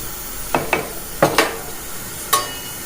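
A spoon stirs and scrapes beef in a cooking pot, with about five short, brisk strokes spaced unevenly.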